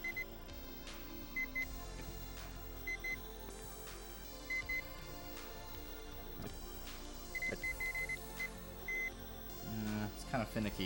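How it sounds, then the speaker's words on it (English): A keyboard switch tester, testing switches from a 1980s Mac keyboard, gives short electronic beeps at irregular intervals, sometimes in quick pairs, quiet beneath low room noise and light handling clicks. "when I push the switch down, it should beep at us"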